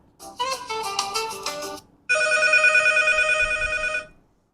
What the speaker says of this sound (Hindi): साउंड इसकी सुनते हैं, ड्यूल स्पीकर के साथ है ये।